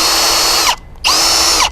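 A regular power drill fitted with a Jiffy Scout ice drill attachment spins up loudly and close by in two whirring bursts with a brief pause between them, each one ending with a falling whine as it winds down.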